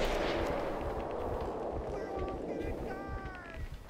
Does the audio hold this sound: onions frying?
no